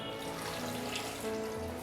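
Water poured into a pressure cooker over washed mango seeds for a mango-kernel mukhvas, a steady close trickle and splash lasting under two seconds with no talking.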